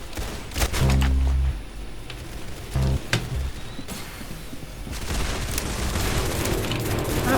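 Gunfire in the online shooter game Arsenal, with bursts of heavy booming shots clustered early and again around the third second, then a dense mechanical clatter of distant fire continuing under the game noise.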